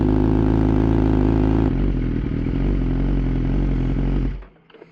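A BMW S1000RR liter sport motorcycle runs loud and close with a dense, buzzing engine roar. The note steps down partway through, holds steady, and then cuts off abruptly near the end.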